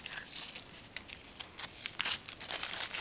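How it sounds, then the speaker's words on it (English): Masking film peeled away from an airbrushed wood-grain board, heard as a close, quiet run of crinkling and soft tearing bursts, uneven in rhythm, with no talk. "We're just gonna peel this off here."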